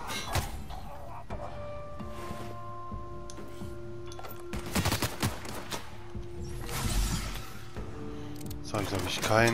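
Enemy gunfire in The Outer Worlds video game, several sharp shot bursts and clattering impacts over a steady game background, loudest near the end, with a player talking over parts of it.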